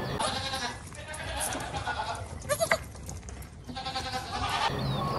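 A goat bleats among muffled background noise, with a brief wavering cry in the middle standing out from a steady wash of sound.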